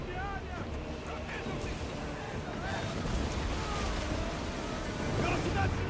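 A sailing ship in Assassin's Creed Odyssey rides steady wind and rushing waves, a continuous roaring hiss that builds slightly toward the end, with faint voices underneath.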